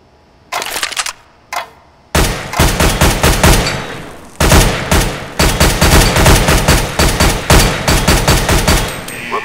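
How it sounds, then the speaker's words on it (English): Short, controlled bursts of rifle fire ring out in Counter-Strike: Global Offensive on a weapons training course, loud sharp shots grouped in rapid clusters with brief gaps of silence between bursts. "Aim at the target and shoot in short, controlled bursts."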